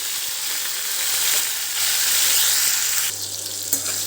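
Chopped tomato frying in a pan with cloves and whole chillies, a loud continuous sizzle with light stirring scrapes and a brief knock near the end.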